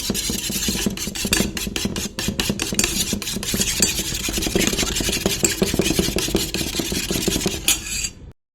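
Eggs with chilli powder, salt and milk are briskly beaten in a bowl, giving a fast rhythmic clatter of utensil strikes against the bowl for about eight seconds before stopping abruptly.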